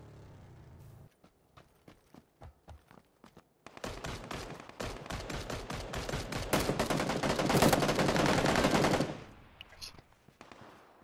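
Video game gunfire: spaced single shots first, then a long stretch of dense, rapid automatic bursts, loud and close, ending abruptly, with a voice faintly present.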